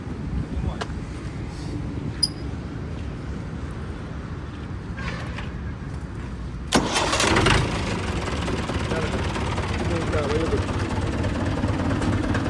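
A new Indofarm 3055 tractor engine cranks and catches partway through, then settles into a loud, steady diesel idle outdoors, with voices and background noise before the start.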